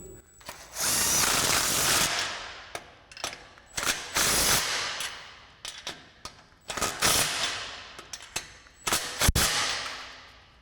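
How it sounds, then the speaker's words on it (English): An impact wrench with a deep 14mm socket tightens a hanger clamp on a Toyota Tundra RedRock single exhaust system, firing a series of loud, close rattling bursts of varying length separated by short pauses. "Next, we'll go ahead and tighten down our hanger clamp, which is a deep 14mm on our impact."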